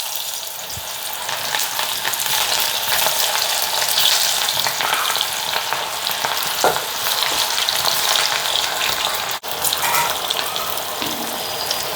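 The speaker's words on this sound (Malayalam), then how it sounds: "കുറച്ച് ഇട്ട് വറുത്തെടുത്താൽ മതി" A homemade snack frying in hot oil in a pan, a loud, steady, close-up sizzle and crackle that runs throughout with a brief dip near the end, and no talking.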